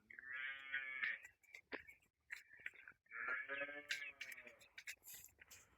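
A pair of Cholistani Friesian cows moo loudly and close by, two long drawn-out calls separated by a short pause, with brief shuffling and faint farmyard noises between them.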